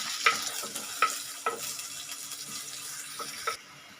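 Ingredients for a makhana gravy sauté in a frying pan with a soft, steady sizzle, punctuated by a handful of sharp scraping stirs of the spoon against the pan, close and fairly quiet.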